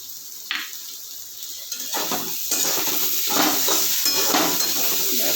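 Discarded bottle gourd peels fry in a pan with a soft, steady sizzle that builds over a few seconds, while a utensil scrapes and clinks against the pan.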